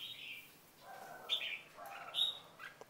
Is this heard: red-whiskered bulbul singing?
yes